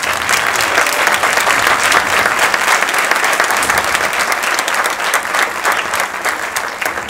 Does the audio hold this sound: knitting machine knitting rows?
no